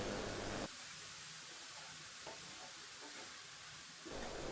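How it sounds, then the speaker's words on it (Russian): A soft, steady sizzle of food frying in a pan over medium heat, quiet and close, with a couple of brief louder bursts of noise at the start and end. "Обжариваю на среднем огне."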